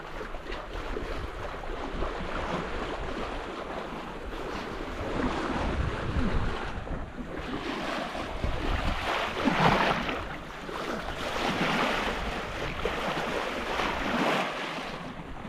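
A sailing boat moving on the sea near Kawau Island, Auckland, with the wind on the beam, surrounded by a steady wash of waves and gusting wind noise that swells and eases without any talk.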